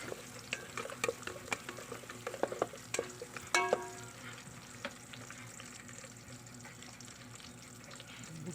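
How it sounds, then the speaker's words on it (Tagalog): Garlic, onion and tomato for squid adobo being sautéed in a pan, with a steady low sizzle broken by a few sharp scrapes and clinks of stirring, close and moderately loud. "igisa natin ang mga sangkap"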